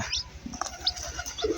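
Several high, thin chirps pop up now and then over a low background hum, like small Sonali chicks peeping nearby.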